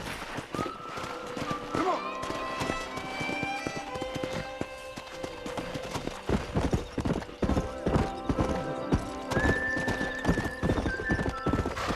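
Horse hooves clip-clop steadily in Red Dead Redemption, a western video game, with occasional neighs and whinnies over music and ambient sound; the pace picks up into a run in the second half.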